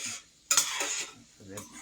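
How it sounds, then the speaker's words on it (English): A spoon scrapes and clinks against a pan while food is stirred in a home kitchen making Hamburger Helper, a couple of brief metallic knocks, faint and close, with a little soft sizzling. "I'm sorry about the noise, guys, of this spoon hitting this pan."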